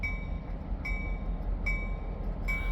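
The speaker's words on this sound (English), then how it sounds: "no video of the past year would be complete without some of the trains" Train rumbling near the Nesquehoning passenger terminal, a steady low roar with a bright tonal whine that swells at regular intervals, close and continuous with no voices.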